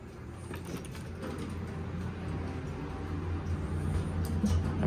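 A Montgomery hydraulic elevator at Macy's in Bellevue, Washington, arriving and opening its doors: a steady low mechanical rumble and hum that swells slightly toward the end, with soft sliding clunks.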